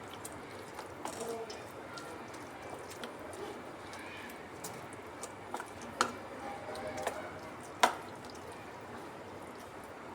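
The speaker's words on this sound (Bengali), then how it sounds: "তো সবগুলোকে আমি এভাবে চামচে করে মাখিয়ে নেব ভালো করে।" A spoon mixes spiced raw potato and semolina seasoned with chaat masala and salt, giving soft wet squishing with a few light, sharp clicks scattered over about ten seconds, faint and close.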